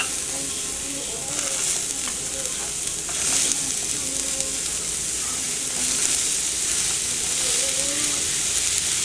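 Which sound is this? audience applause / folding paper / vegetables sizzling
vegetables sizzling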